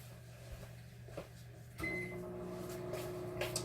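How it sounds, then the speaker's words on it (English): A microwave hums steadily at low volume; a click and a louder hum start partway through, with faint clatter around it. "I forgot to turn on the microwave."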